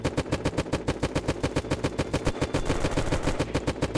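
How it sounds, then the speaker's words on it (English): Rapid, close gunfire from the Unturned video game on a PvP server: a steady stream of evenly spaced loud shots runs for about four seconds, thickening into a dense, overlapping burst near the end, with no talk. "And there are shots. Very, very close."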